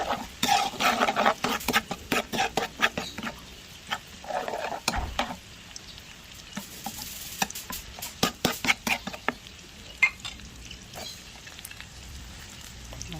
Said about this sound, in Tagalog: Gigisa tayo ng bawang, luya.